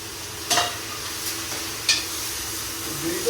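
Browned onions frying in a pan with tomatoes just added for hotel-style chicken chana, giving a steady sizzle with a couple of brief stirring scrapes and clinks, close and fairly quiet.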